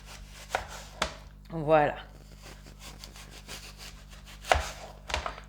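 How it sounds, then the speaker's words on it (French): A knife cuts apples into rounds about 1 cm thick on a board, with a few sharp separate chops and a brief scraping slice between them, and a short spoken word near the end. "Et je vais couper des rondelles d'une épaisseur d'à peu près 1 cm."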